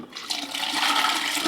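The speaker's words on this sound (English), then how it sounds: "Dump all your excess water out." Excess water from a Ninja Slushi machine is poured out, a brief steady rushing splash heard close and alone without any talking.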